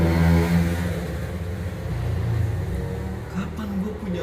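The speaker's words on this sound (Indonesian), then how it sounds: "gara-gara suara motor" A motorcycle engine drones nearby with a low, steady rumble that wavers in pitch, fairly loud throughout.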